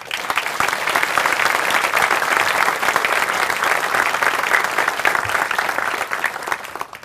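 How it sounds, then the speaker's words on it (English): Loud, sustained applause from a large crowd at a military change of command ceremony, dense clapping filling the whole stretch without a break, fading slightly at the end. "Please give them all a big round of applause."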